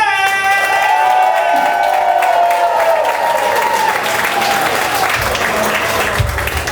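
A large comedy show crowd in a gym applauds and cheers loudly, with whoops and shouts over sustained clapping that keeps going throughout.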